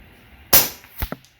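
A .25 Avenger bullpup air rifle fires a single JTS 25.39-grain pellet outdoors: one sharp, loud crack, followed a half-second later by a fainter double knock.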